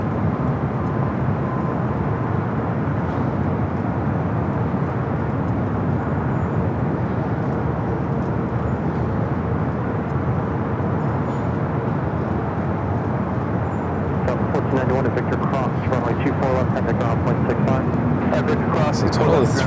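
A LATAM Boeing 787 Dreamliner taxis at LAX, its engines giving a steady broad roar with constant rumble throughout, while someone talks over it at times.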